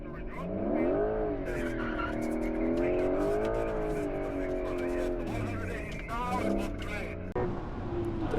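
Porsche engine note rising and falling with tire squeal as the car drifts on the Hockenheimring track, while a person talks over it throughout.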